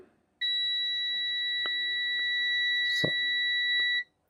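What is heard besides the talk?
multimeter continuity test beep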